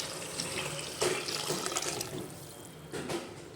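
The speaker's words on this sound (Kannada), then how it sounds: "ಇದಕ್ಕೆ ನಾನು 1 ಬೌಲಷ್ಟು ನೀರು ಹಾಕ್ಕೊಳ್ತೀನಿ" A bowlful of water pours into a cooking pot of palak sambar in a home kitchen, a steady splashing gush with a couple of stronger surges, close and fairly loud.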